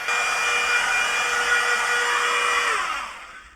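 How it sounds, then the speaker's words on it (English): A small toy hairdryer running inside a campervan, a steady high whirring blow close by that winds down and stops at the end. "Abby's using the hairdryer in the van for the first time."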